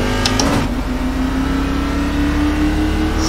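A race car engine in the iRacing sim revs loudly and steadily on the grid before the start at Las Vegas, a sustained high drone close up with no voices.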